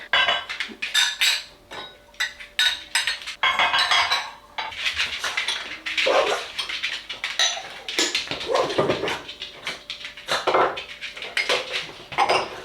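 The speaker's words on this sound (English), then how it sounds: "I have a feeling the dishwasher needs emptying" Dishes and cutlery come out of a dishwasher in a home kitchen, with repeated close clinks and clatters of plates and silverware in uneven bursts and brief pauses between handfuls.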